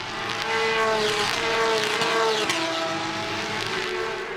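Porsche Carrera Cup race cars scream past at Imola, engines rising and falling as they shift gears in close succession, loud and sustained without commentary over them.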